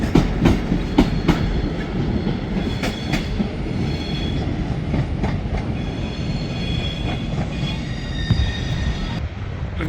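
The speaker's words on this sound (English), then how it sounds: "Progress livery 390119 Avanti West Coast Pendolino." Avanti West Coast Class 390 Pendolino in Progress livery, number 390119, moving through Manchester Piccadilly: continuous close rumble of wheels on rail with repeated clicks over joints and thin high squeals from the wheels.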